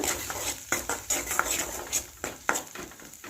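A ground herb paste stirred in hot oil for a herbal rasam, heard as repeated clinks and scrapes of a spoon against a pot in an uneven rhythm over a soft background hiss, close and moderately loud, with no voices.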